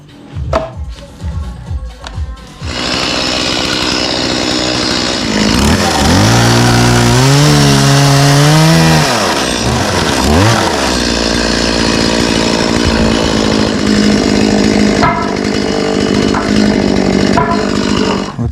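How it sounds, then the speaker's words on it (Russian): A petrol chainsaw starts after a few sputtering pulls, then roars loudly while cutting wood, its pitch dipping and rising as the bar bites, before settling into a steady high whine. "Бензопила, я которую принес"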